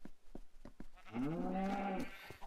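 Sheep on a Minecraft sheep farm give one long wavering bleat, clear and fairly close, over steady background ambience with a few soft clicks before it.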